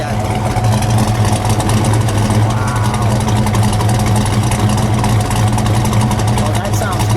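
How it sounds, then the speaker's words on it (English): A 1937 Ford Slantback Custom two-door runs at a loud, steady idle with an even, throbbing engine note close by. Someone speaks over it. "It's starting a turbine motor."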